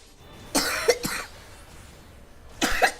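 A female streamer coughs close to the microphone: a pair of quick raspy coughs, a pause, then another single cough, with no talking in between.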